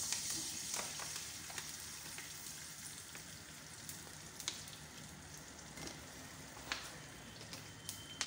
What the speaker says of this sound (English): So let's start frying up our tomato.